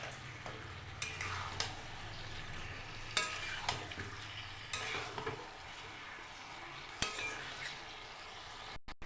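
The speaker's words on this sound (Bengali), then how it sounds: "কড়াইতে দিয়ে দিয়েছি মাংস," Chicken stir-fried in a kadai with oil and a little sugar sizzles steadily up close. The spatula scrapes and clinks against the pan at intervals, and no one speaks.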